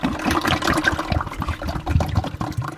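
Hydraulic transaxle fluid drains from a Gravely ZT XL zero-turn mower into a pan, a steady close liquid pour and trickle that runs continuously without a break.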